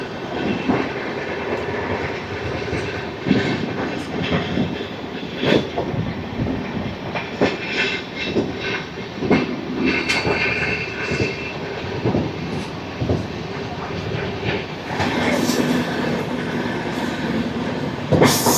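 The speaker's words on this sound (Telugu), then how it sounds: "ఆహా, మన ట్రైన్ చూడండి ఫుల్ టర్నింగ్ కొడుతుంది." Padmavati Superfast Express, the 12731 Tirupati–Secunderabad service, rolls steadily through a full curve, a continuous loud rumble of wagons with repeated clickety-clack wheel beats and occasional metallic accents, no voices.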